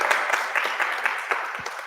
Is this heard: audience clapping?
yes